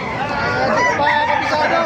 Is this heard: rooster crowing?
yes